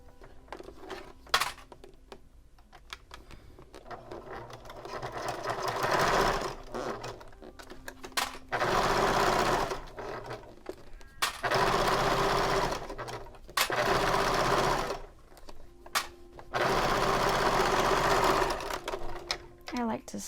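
A sewing machine stitches along a bag handle in several separate runs of a second or two, close and whirring, broken by pauses filled with clinks and handling noise while a person talks.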